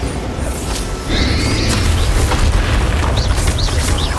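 Spell-casting combat in the video game Hogwarts Legacy, with loud layered magical booms and rumbling blasts over a dense bed of effects and rising whooshing zips, continuous and close.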